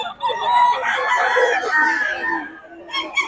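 A double-banded gamefowl rooster crows once, loud and close, with a long, rising and falling call, followed by a few short clucks at the end.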